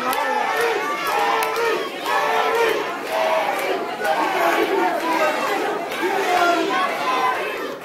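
A wrestling crowd at a tag-team match roars and cheers in steady waves, loud and close, with shouts and chatter mixed through the din.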